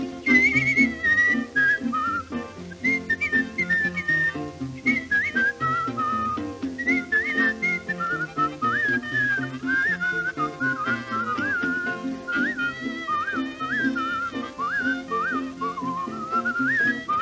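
A person whistles a lively, bouncy ragtime tune with quick ornamented notes, close and clear over guitar-like accompaniment from an old jug band recording.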